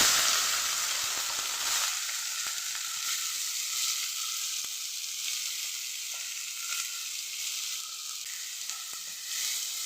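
Onions hit hot oil with cumin seeds in a pan, a steady loud sizzle and frying hiss running throughout with faint stirring scrapes, no talking.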